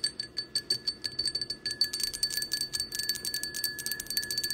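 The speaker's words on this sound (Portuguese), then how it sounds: "Escuta aqui, ó, o barulhinho do copo, ó." A drinking glass holding water is struck again and again, giving a quick run of bright, ringing clinks close by, with the chiming getting denser and busier partway through.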